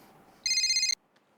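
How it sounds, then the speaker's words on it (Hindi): A telephone ringtone sounds once, a bright electronic tone held for about half a second, close and clear against a quiet room with no speech over it, in a Hindi TV sitcom scene. "ओ, विनोद भाई का फोन है"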